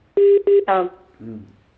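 Touch-tone dialing while calling into a phone class: a few sharp, steady beeps in quick succession, followed by a brief lower-pitched voice-like tone, all close and clear with no talking over it.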